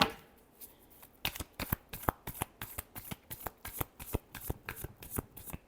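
A deck of cards is shuffled in a fast, steady riffle. The sharp flicks repeat rhythmically, close and clear, with no voice over them.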